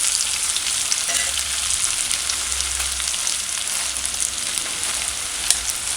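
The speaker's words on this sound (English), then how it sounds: "frying with the stoves on 6, which is like medium high. Okay, saute the onions" Onions and garlic sauté in a pot on a stove set to medium-high, a continuous loud, dense sizzle and crackle close by, steady throughout with a faint low rumble beneath and no speech.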